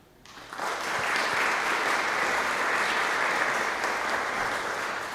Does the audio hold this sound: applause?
yes